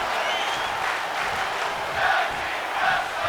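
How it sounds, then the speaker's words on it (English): A wrestling crowd at a live tag team show chants in loud, rhythmic waves, with the massed voices filling the arena steadily throughout. "You hear those tag team wrestling chants."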